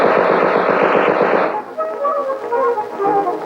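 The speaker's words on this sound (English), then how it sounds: "machine gun" A machine gun fires a rapid burst during 1960s police firearms training, loud and rhythmic for about a second and a half, then cuts to a quieter stretch with a tonal musical backing.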